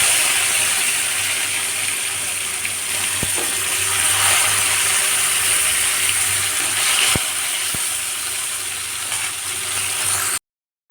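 Pieces of rohu fish fry in a little oil, making a loud, steady hiss close by, marked by a couple of sharp clicks. There is no talking.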